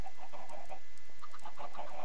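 Chickens on a video game chicken farm cluck in quick repeated bursts, steady and moderately loud over a faint constant hum, with no talking.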